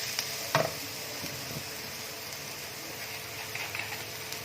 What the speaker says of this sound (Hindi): ठीक है, थोड़ा सा फ्राई करेंगे इसको।